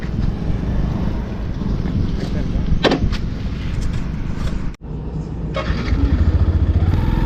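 A Yamaha FZ-FI motorcycle engine running in first gear during a speed check gives a steady, loud rumble throughout, with heavy wind buffeting and a brief dropout near the middle.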